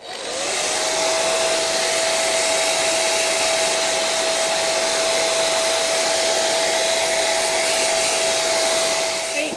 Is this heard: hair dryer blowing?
yes